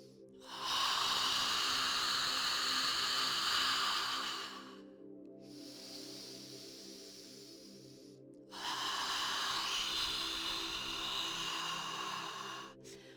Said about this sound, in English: exhale through the mouth as if you were fogging up a pair of glasses